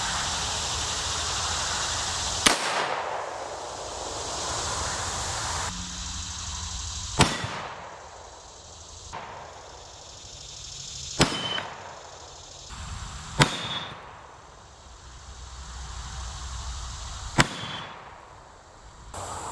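Five sharp rifle shots from a 20-inch barrel firing 62 grain green tip rounds at steel armor plate, spaced a few seconds apart, each loud crack followed by a long echoing decay outdoors.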